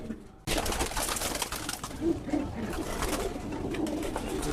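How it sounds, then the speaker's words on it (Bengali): Army-line racing pigeons coo in a loft, with several soft, low, rolling calls over a dense, steady background of wingbeats and shuffling after an abrupt start. "এটা হচ্ছে একটা আর্মি লাইনের কবুতর"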